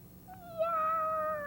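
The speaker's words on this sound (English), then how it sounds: "and the cats went," A single drawn-out cat meow, rising and then sliding slowly downward, close and fairly quiet over a faint background hum, with no talking.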